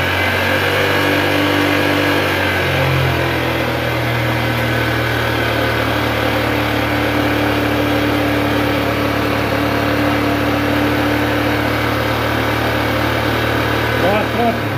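A car engine runs at home during work on a worn brake hub, droning steadily with a slight rise in pitch early on, then a long even hum while a wheel spins under it.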